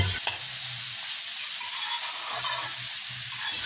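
Banana stem bhaji is stirred as it fries in a pan, giving a steady close sizzle with soft scraping strokes throughout and no voices.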